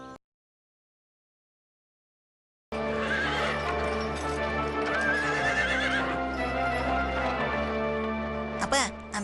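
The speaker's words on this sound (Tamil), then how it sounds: "அந்த குதிரையை பாத்தீங்களா? நம்ம குதிரையை விட வேகமா போகும் போல இருக்கே." A horse neighs and gallops with steady clip-clop hooves during a race, the sound loud and continuous after a short silence, with a brief whinny near the end.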